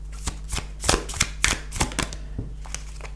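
Tarot cards shuffled by hand at close range, a quick series of crisp riffling snaps and slaps falling in irregular bursts over a low steady hum, with no one speaking.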